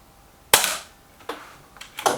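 An Air Arms S510 Ultimate Sporter air rifle fires several shots, each a sharp close crack, the first loudest and followed by fainter reports and a quick clack, no talking.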